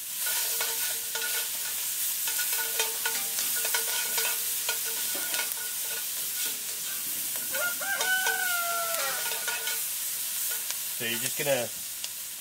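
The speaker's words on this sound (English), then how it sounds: "saute the onions until they're just translucent" Onions sauté in a hot pan with a steady close sizzle and scraping stirs, while a person talks briefly and a rooster crows in the background.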